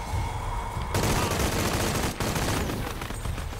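Rifle gunfire in the Shadow of the Tomb Raider video game: a dense, loud burst of rapid shots fills the whole stretch, with a brief dip midway before the firing resumes.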